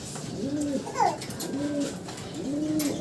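Racing pigeons from breeding stock coo close by, three soft, low, rolling coos at a steady spacing over a faint background hum.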